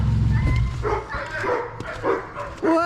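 Dogs bark and yip at visitors arriving at a homestead, the sharp barks coming close and broken, with a person talking to them in between.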